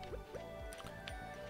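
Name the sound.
watering crops in the video game Stardew Valley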